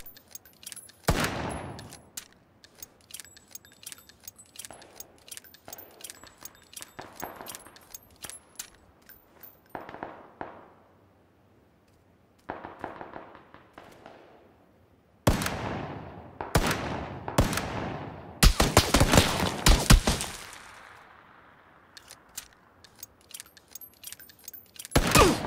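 Revolver shots in a video game ring out as a series of sharp, loud cracks, a few scattered early on and then a dense cluster of booming shots with decaying tails near the end; no one speaks.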